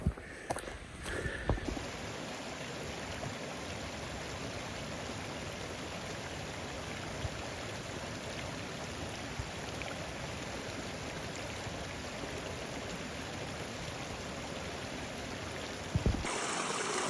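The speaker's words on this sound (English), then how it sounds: "you hear this babbling, raging river" A rushing mountain river in southern Colorado backcountry roars steadily and loudly for the whole stretch, a dense broadband wash of turbulent water that never lets up, with a few brief handling knocks at the start and end.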